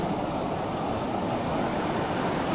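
Steady, continuous surf roar of large ocean waves ahead of an approaching typhoon, broad and washing, with wind mixed in and no voices.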